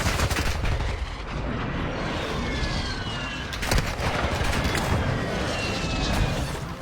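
Gunfire in Warzone 2, sharp shots and bursts cracking over a dense battle din, some close and punchy, others further off, continuous noisy background throughout.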